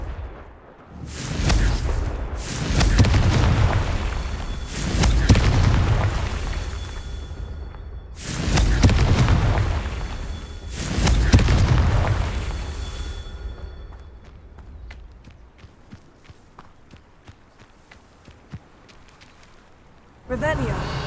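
Confringo fire spells blasting during Merlin trials in the Hogwarts Legacy video game, several loud whooshing explosions in a rhythmic series with rumbling tails, fading to quieter ambience before a final burst.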